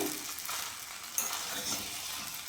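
Pasta and tomato sauce are stirred in a hot pan, a soft continuous sizzle with faint scraping of the spoon, quiet and close, nothing else heard.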